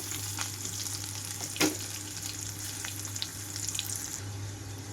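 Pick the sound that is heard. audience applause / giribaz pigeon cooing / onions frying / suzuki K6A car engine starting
onions frying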